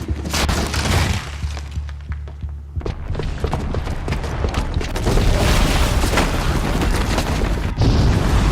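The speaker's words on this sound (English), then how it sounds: "the booby trap on the bomb downstairs is gonna get set off" A booby-trapped bomb detonates in Horizon Zero Dawn, starting with a deep rumbling boom that cuts off, then a loud sustained blast of crashing, shattering debris and collapsing rubble that fills the scene.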